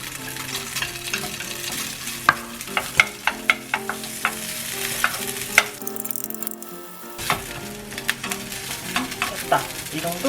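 Ham strips frying in a little oil for homemade kimbap, a close sizzle punctuated by sharp repeated clacks and scrapes of a utensil stirring in the pan, briefly dropping quieter midway before resuming.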